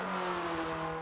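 Hyundai Veloster engine in Forza 7 on the Road Atlanta track, a loud close steady revving drone with strong harmonic tones that eases slightly toward the end, no talking.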